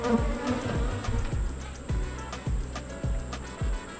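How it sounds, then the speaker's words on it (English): Honey bees buzz steadily around an opened hive in close range, a constant insect drone overlaid by a regular series of low thumps. "A lot of bees up here"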